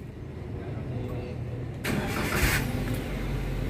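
A Daihatsu Gran Max 1.3L pickup engine cranks and catches partway through, then settles into a steady mid-pitched idle; the start is loud and close, with no talking over it.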